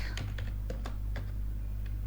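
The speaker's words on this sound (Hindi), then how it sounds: "यहाँ पे हम टाइप कर देते हैं" Keys on a computer keyboard are tapped in a quick, uneven run of light clicks, close by, over a steady low electrical hum.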